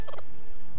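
A chicken clucks briefly in the video game Zelda: A Link to the Past, a short burst of chirpy retro game sound that fades quickly into a quiet hiss.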